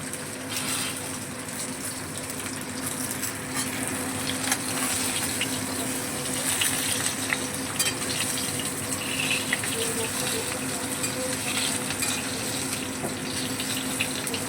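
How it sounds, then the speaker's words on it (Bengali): Mango pieces for a jaggery mango preserve being stirred in hot oil, giving a constant close hiss and bubbling with faint scrapes and clinks throughout. "এবারে আমটা তেলের মধ্যে একটু নেড়ে চেড়ে নেব"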